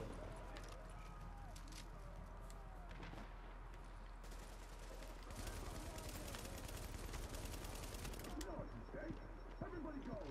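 Gunfire in The Division video game during a fight at the Hudson Refugee Camp, with rapid bursts and scattered shots over a busy, noisy battle background.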